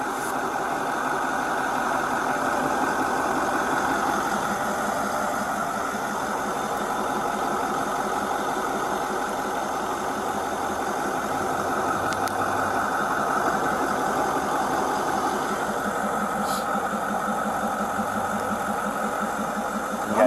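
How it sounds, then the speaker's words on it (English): A running engine idles close by, a steady low rumble with a faint knocking vibration that holds evenly for about twenty seconds, near and fairly loud, with no talk over it. "I'm sorry, I'm sitting next to this engine."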